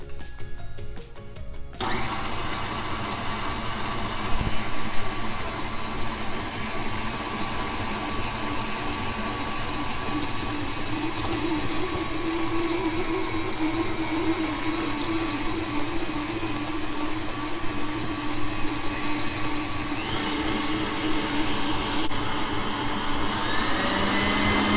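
An electric mixer whirs steadily through cream cheese frosting for chocolate chip scones, a loud, continuous motor drone that starts abruptly and runs for the whole stretch with no talk.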